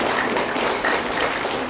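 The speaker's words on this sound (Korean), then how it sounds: "기분 좋으면 박수나 쳐보시오" Applause from a lecture audience fills the whole stretch as a dense, loud wash of many hands clapping, steady throughout with no voices on top.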